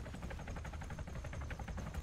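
A helicopter flies overhead in Arma 3 DayZ Breaking Point, its rotor thumping in a steady, rapid rhythm. The sound is faint and distant and holds throughout.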